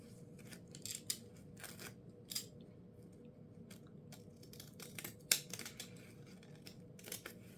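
Scissors trim glued book pages and packing paper, with crisp close snips at irregular intervals over a steady low background hum.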